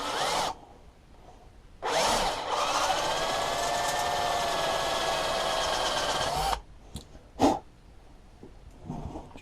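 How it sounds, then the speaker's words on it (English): A power drill with a 5mm bit whines steadily for several seconds as it bores through aluminium on a Stihl TS400 disc cutter recoil cover, then stops, followed by a few short bursts and clicks. "what I'm going to be doing first is drilling out this with a 5mm"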